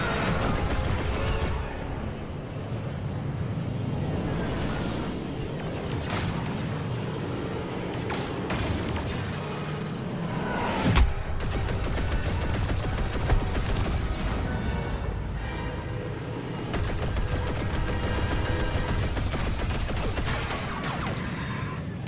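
A dense, continuous Star Wars space battle in a video game rages with blaster fire and missile launches, rapid crackling shots and booming impacts layered over a thick, loud roar that never lets up.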